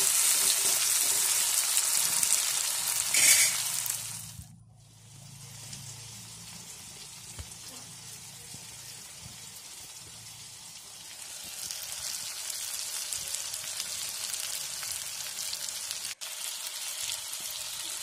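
Pork kumbin hitting a pan of fried tomatoes: a steady, moderate sizzle and crackle that briefly drops out partway through, then picks back up and continues evenly to the end, with no voices.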